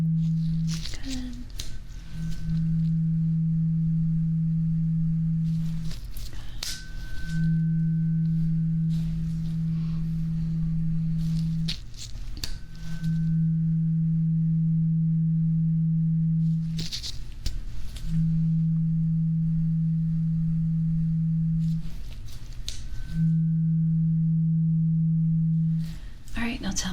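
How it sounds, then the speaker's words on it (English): A pure, steady tuning fork hum sounds in repeated bursts of a few seconds each during a hearing exam, separated by short pauses with faint clicks and background noise. "I want you to tell me on what side you hear the tuning fork"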